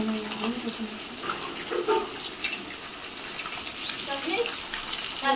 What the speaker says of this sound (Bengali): রুই মাছ ভাজা হচ্ছে